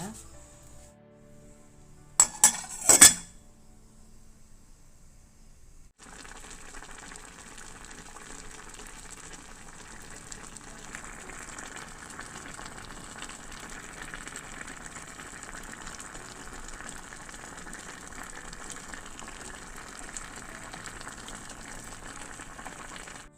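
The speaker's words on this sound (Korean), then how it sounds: "그럼 불에 올려서 끓여보도록 하겠습니다" A pot of doenjang and perilla leaf broth set on a stovetop: a few sharp clicks, then a steady, soft, even simmering hiss that continues alone to the end.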